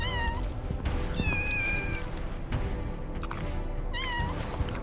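A cat in Final Fantasy VII Rebirth meows repeatedly in short, clear calls, several in a row with brief gaps, loud and close over quiet game ambience.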